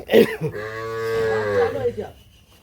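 A single long, loud moo from a dairy cow rises and holds steady for over a second, then fades out, heard close and clear.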